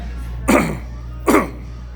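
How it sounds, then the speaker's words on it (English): Two short, loud coughs about a second apart, close to the microphone, with no other sound around them. "Horrible coughing."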